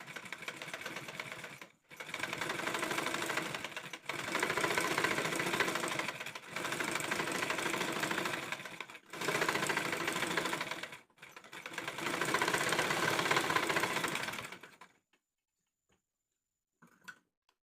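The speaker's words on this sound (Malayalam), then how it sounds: "ഇനി നമുക്ക് പതിച്ചൊന്നും കൂടി സ്റ്റിച്ച് ചെയ്ത് കൊടുക്കാം കേട്ടോ." Sewing machine stitching a churidar seam: five long, continuous bursts of rapid mechanical whirring, loud and close, separated by brief pauses, ending in near silence with a faint click.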